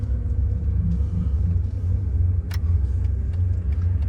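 A 1977 Porsche 911S Targa engine drones steadily at low pitch while driving, a continuous close rumble with a brief sharp tick partway through.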